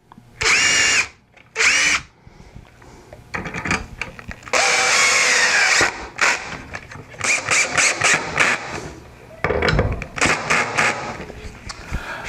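A power drill drives screws to fix a hinge and leg onto the support shelf of a barrel stave easel, whirring in several loud, close bursts of varying length with quieter handling noise between them.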